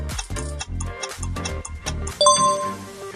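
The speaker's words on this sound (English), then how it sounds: "It's Microsoft." A Microsoft mobile phone ringtone plays: a bright synthesized melody of short plucked notes that ends on sustained chiming tones, clear and alone.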